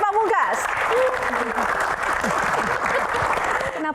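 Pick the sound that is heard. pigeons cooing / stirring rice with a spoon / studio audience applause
studio audience applause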